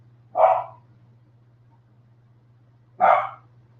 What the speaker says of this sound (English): And speaking of Chloe, that's my little dog